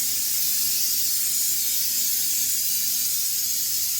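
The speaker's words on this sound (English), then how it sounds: "We'll go ahead and spray this all down" A can of coconut oil cooking spray releases a continuous, steady hiss onto a cupcake pan, close by and unbroken for several seconds, with no talking.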